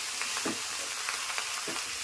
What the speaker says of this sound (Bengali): ভাজা ভাজা হতে হবে, আর সবজিগুলো একটু ভাজা ভাজা হবে